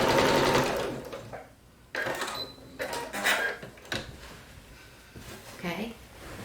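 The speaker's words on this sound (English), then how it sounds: "turn my quilt 45 degrees, and then sew off the corner." A sewing machine stitches diagonally off the corner of a quilt, running in a few short bursts with brief pauses, close and fairly loud, with someone talking over parts of it.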